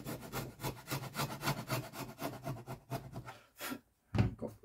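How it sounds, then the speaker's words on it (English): A chisel scrapes glue residue off the wooden back of a damaged guitar during an X-brace repair, giving quiet, rapid rasping strokes in a steady rhythm, pausing briefly before one last scrape. "I'm taking off some of the glue and residue here with the chisel"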